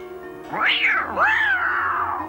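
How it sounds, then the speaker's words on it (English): A cartoon cat lets out an angry yowl, loud and close: a rising, wavering meow that swoops up and falls, then sustains a second drawn-out caterwaul. "A mad cat."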